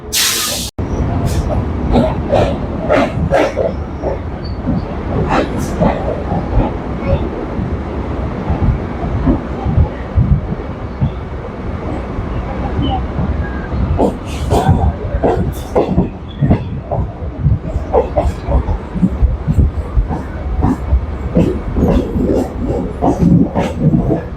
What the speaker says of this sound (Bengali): ট্রেন আস্তে আস্তে মাঝেরহাট স্টেশনের দিকে পৌঁছে যাচ্ছে